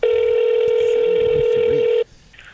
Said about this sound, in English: Max, can you call it? 713